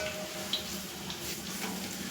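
Garlic and cumin sizzle in hot oil in a pot for a tempering, a close, continuous frying hiss with a faint clink near the start.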